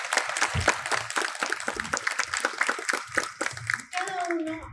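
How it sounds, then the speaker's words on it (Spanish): Parents at a school talk applaud a doctor after his presentation, with loose, uneven clapping from a modest group mixed with murmuring voices, ending in a brief tonal sound. "Papitos, les pido otros aplausos para el doctor Caroso"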